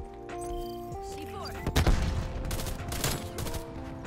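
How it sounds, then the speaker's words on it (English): An AUG rifle fires in Black Ops Cold War during a multiplayer match, with rapid bursts of shots and sharp reports through the middle and end, and someone talking underneath. "Yeah, your gun shoots faster,"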